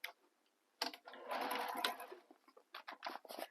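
Topstitching across a bag seam, a sewing machine gives a short, quiet burst of stitching with soft ticking and fabric handling around it, faint and close.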